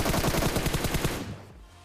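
A rapid, loud burst of automatic gunfire in the battle royale game PUBG, rattling evenly for about a second before cutting off into a short fading tail.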